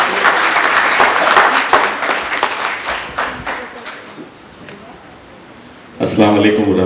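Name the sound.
loud audience applause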